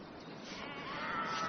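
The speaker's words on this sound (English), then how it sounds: "There seem sheep everywhere." Sheep bleating in a countryside scene from a British crime drama, a single close wavering bleat that rises in strength over a steady outdoor background.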